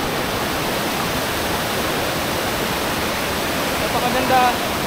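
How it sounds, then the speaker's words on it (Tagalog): A powerful waterfall in Puerto Princesa, Palawan, swollen after recent rains, roars steadily, a dense, broadband rush of falling water that fills the whole clip without pause. "napakaganda ng falls ngayon. Dala ng lakas ng agos."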